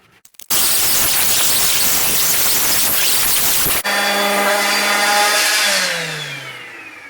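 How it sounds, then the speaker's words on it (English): Wood boards being sanded with a power sander, a loud harsh whir that runs steadily for a few seconds before the motor cuts off and winds down with a falling whine. "we're going to sand the wood"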